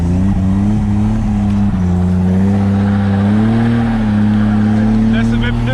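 A BMW E30 fitted with a swapped M50 engine revs loud and steady up close, the pitch rising and settling with a slight climb near the end.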